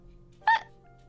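A single sharp hiccup from a person, short and close, standing out clearly against quiet background hum.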